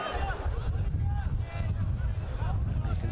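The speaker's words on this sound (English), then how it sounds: "You can certainly hear the wind" Wind buffets and roars steadily across the pitch at a Mansfield Town versus Crawley Town football match, with a constant low rumble and a faint crowd murmur underneath.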